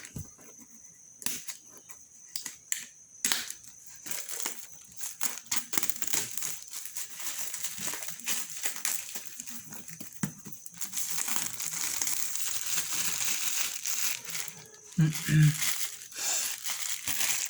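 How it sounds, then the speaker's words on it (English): Plastic wrap crinkling and tearing as it is pulled off a Beats Solo headphones box, close and intermittent at first, then more continuous rustling, with a person talking throughout. "So I'm gonna be pulling up here this plastic."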